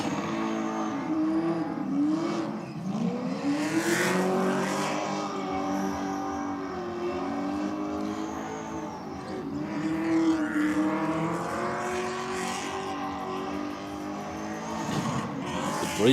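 Race car engine at a racing event revving hard against the rev limiter, a loud sustained buzzing roar with stuttering pitch swings and bouncing revs, heard from a distance with a voice faintly underneath.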